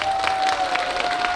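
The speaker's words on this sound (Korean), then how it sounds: "박수 한번 쳐" Brief applause from an outdoor crowd at a temple festival performance and amateur singing contest, a dense even patter of many hands held at moderate level throughout.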